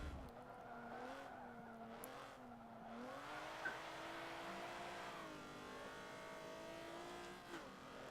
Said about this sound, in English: 280 horsepower in a minivan. And a fucking Honda Odyssey.